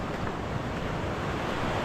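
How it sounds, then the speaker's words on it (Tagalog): Strong sea waves surge continuously in a broad, loud roar of surf mixed with wind buffeting the microphone at the shore. "Sobrang lakas talaga ng alon."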